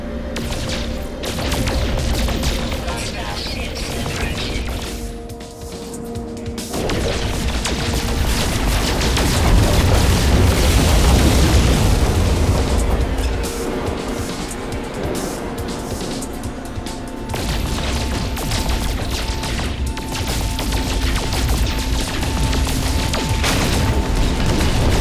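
Incoming fire and explosions in the space game No Man's Sky, with loud sustained booming and a barrage of blasts over engine drone throughout.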